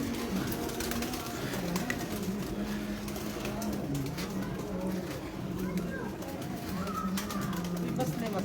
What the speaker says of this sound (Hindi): अभी ये कबूतर उड़े हैं बाहर रहेंगे सारे लाइटों तक।